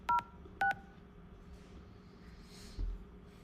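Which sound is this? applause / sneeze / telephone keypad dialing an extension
telephone keypad dialing an extension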